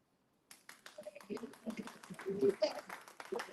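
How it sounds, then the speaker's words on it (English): Scattered claps from an audience at a talk start after a brief silence and build into uneven, moderately loud applause, with voices mixed in. "I love the claps."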